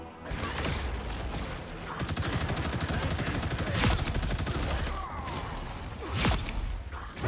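Turret fire in the co-op shooter Helldivers 2, steady rattling automatic bursts with whooshing and mechanical clatter, punctuated by a couple of sharper loud blasts, all at a fairly even, busy level.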